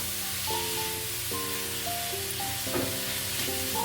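Mushrooms sauté in a spice paste in a pan with a steady, broad sizzle and hiss beneath background music, with no pauses.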